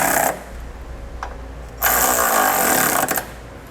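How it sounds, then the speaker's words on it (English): Power tool driving a 1/2 inch socket to tighten the smaller bolts of a Curt trailer hitch receiver on a 2017 Ford C-Max, two loud, close bursts of rattling impact whirring separated by a short pause. "Our smaller bolts we're going to tighten with a 1/2 inch socket."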